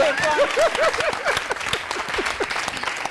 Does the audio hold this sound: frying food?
no